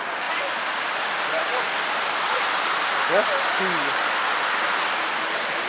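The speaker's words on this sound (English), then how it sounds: "It's raining heavily." Heavy rain pours onto Dal Lake in Kashmir, a loud broad steady hiss of drops filling the scene, with a brief voice speaking partway through.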